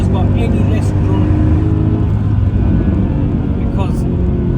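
A Mercedes C63 AMG W204 with its V8 engine running gives off a loud, deep, continuous rumble with revving texture, close and steady throughout.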